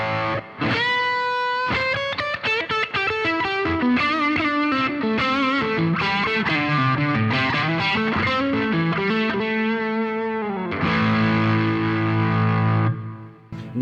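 An electric guitar through a TC Electronic Zeus Klon-style overdrive pedal, gain at halfway, plays a fast bluesy lick, then rings out on a sustained gritty chord.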